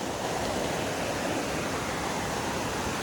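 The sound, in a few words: Usgaon waterfall flowing in monsoon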